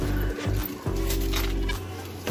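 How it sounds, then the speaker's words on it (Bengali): Racer pigeon hens, all female birds, coo close by in low, throaty, repeated rolling calls that overlap almost continuously, with no talk over them. "এগুলো সব মাদা পায়রা"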